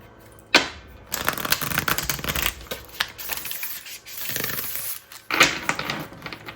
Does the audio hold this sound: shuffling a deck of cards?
yes